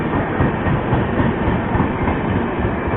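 The Vikramshila Express, which runs between Anand Vihar and Bhagalpur, rumbles steadily on the rails with a continuous low roar and faint clickety-clack, heard from close by with no talk.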